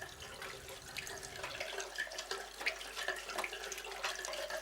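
Tap water runs steadily into a bathroom sink during washing, a continuous close splashing hiss with small irregular splatters throughout, no talking.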